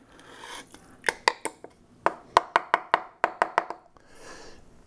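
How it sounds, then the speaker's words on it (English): Finely ground cyanuric acid added into a container with a series of sharp tapping and knocking hits, some in quick bursts, some spaced apart, all close and fairly crisp, with no talk. "now let's go ahead and add the cyanuric acid"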